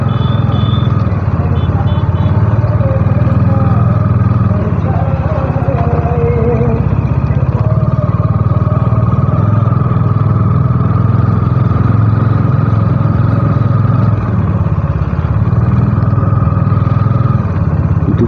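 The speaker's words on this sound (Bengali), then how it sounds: "চালাবো বাইক একদম মগরার উদ্দেশ্যে।" A motorcycle cruises along a national highway in Bengal, its engine drone and strong wind rush loud and constant throughout, with no one speaking.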